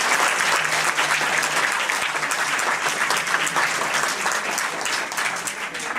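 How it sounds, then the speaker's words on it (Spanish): An audience applauds to welcome a guest at a 40th anniversary celebration, a dense, loud, steady round of clapping lasting throughout. "Y un aplauso para recibir al maestro Torre."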